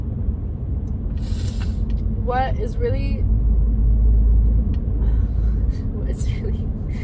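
A car drives along a road, its steady low engine and tyre rumble running throughout beneath a person talking continuously.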